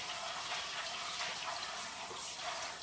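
Tap water runs in a soft, even hiss while mushrooms are rinsed under it, fairly quiet and continuous with no speech.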